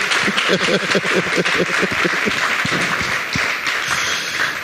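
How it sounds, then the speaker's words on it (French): An audience applauds a shy fashion designer at a b-one fashion event, the clapping loud and dense, with individual sharp claps standing out near the start before it thins slightly. "on peut l'applaudir bien fort"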